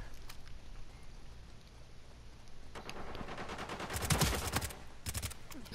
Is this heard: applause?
no